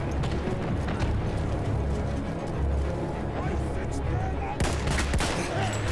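Battlefield 1 game gunfire crackles through a dense, noisy battle mix, with bursts of shots and rapid fire running throughout and a sharper flurry near the end, while a voice talks over it.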